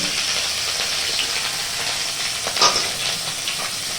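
Crab frying in hot oil with spices in a home kitchen, a steady dense sizzle with crackling spits and a brief louder pop midway, no talk.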